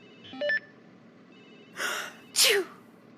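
A single sharp sneeze close by, preceded by a short breathy intake and a brief electronic beep, with no talking.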